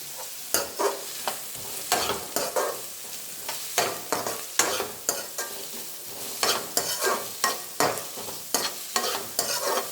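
Turmeric, green chilli and curry leaves fry in a pan with a soft continuous sizzle, broken by rhythmic, repeated scrapes of a spoon stirring against the pan, near and clear.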